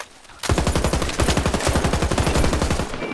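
Rapid automatic gunfire from a video game weapon bursts in suddenly and continues as a steady, loud rattling stream of evenly spaced shots for about three seconds, with no talk over it.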